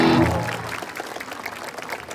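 A crowd at Sabiphoria Fest 2023 in Makassar applauds after a loud, low-pitched burst at the start fades out, leaving moderate, steady clapping throughout.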